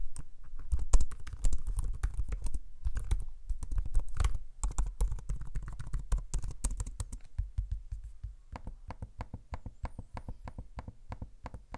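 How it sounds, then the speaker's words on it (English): Close-up typing on a Samsung Galaxy Book laptop: rapid, light key clicks in uneven bursts, with a few heavier taps and clicks from the trackpad, no voices. "so you can hear what the keyboard and trackpad sound like."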